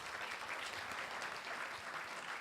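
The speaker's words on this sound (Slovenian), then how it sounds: "Dajmo en velik aplavz še za njo." Audience applauding at a small community event in Šmarje pri Jelšah, an even, moderately quiet patter of many hands clapping continuously for a couple of seconds.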